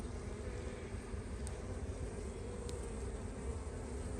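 Dense, continuous buzzing of many honeybees close by around a hive, a steady droning hum with a few louder passes.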